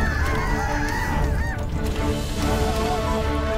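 Chickens in the Totally Accurate Battle Simulator video game squawk and screech in a dense, frantic chorus over a constant loud rumble of battle noise, with no speech.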